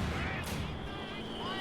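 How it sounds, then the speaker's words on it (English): A tripwire flare goes off in the Company of Heroes strategy game, a brief burst of bright hiss and crackle over steady battlefield noise, with gunfire-like rumble in the background. "It's a tripwire flare."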